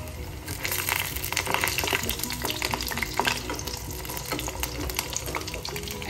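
Food frying gently over a medium flame, a soft, steady sizzle with faint stirring and scraping crackles, close but quiet, with no voices.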